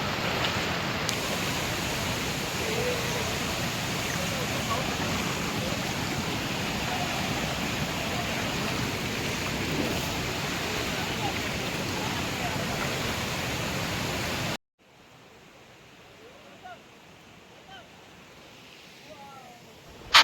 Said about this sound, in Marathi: बघा कसा मोठा धबधबा आहे